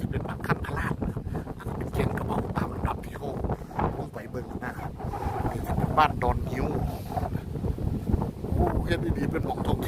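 Strong wind buffets the microphone on the bank of the Mekong River at a rural village, a steady loud rumbling gust throughout with a person talking over it.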